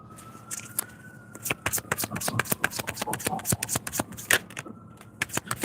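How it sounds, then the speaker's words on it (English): A distant siren wails faintly in the background while cards are shuffled and slapped down briskly and repeatedly close by. "You hear the sirens?"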